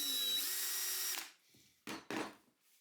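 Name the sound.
power drill pre-drilling wood for a carving mallet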